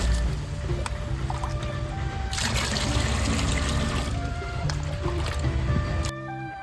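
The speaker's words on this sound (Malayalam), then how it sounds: "ഇതിൽ നിന്ന് തന്നെ എടുത്തിട്ട്" Water pours and trickles into a plastic tub set up for breeding betta fish, a steady splashing stream that stops abruptly near the end.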